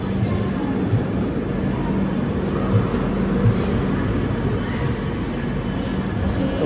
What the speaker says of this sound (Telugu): సో ట్రైన్ వచ్చింది